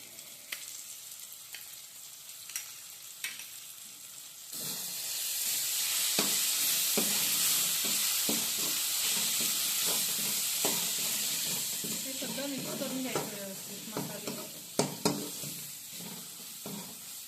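Spice paste for a dried Bombay duck curry is added to a hot pan and fries with a loud, steady sizzle that rises suddenly and holds, joined by scraping stirs and a few clinks.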